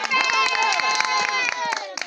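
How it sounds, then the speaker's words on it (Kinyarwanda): A church congregation claps their hands in a steady, fast rhythm during a worship service, the sharp repeated claps running alongside loud voices that seem to be singing or calling out. "mukoma amashyi Imana irabiguha."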